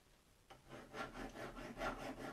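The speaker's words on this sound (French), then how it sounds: "on lime à plat, histoire d'enlever la partie écrasée pour pouvoir sortir l'écrou" A hand file rasps flat across the crushed part of a nut on a Yamaha WR 450F suspension, several soft rhythmic back-and-forth strokes, close but quiet, with no talking.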